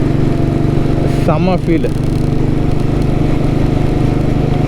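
Royal Enfield Bullet motorcycle, a vintage model, cruising at about 78 km/h, its engine droning steadily and loudly throughout while someone speaks briefly over it.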